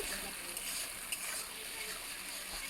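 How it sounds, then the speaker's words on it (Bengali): Ground tomato and spices fry in a pan with a steady, fairly faint sizzle and hiss, with no distinct stirring strokes standing out. "টমেটোটা খুব ভালো করে মশলার মধ্যে কষিয়ে নিতে হবে একটু সময় নিয়ে"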